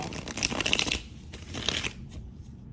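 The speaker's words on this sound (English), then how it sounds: "I want to do like 3 more shuffles." A deck of tarot cards is shuffled close by, with quick papery riffles and flutters in two bursts and a short pause between them, and no voices.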